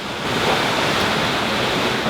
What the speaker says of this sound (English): we're like just going with this big wind behind us and this big sea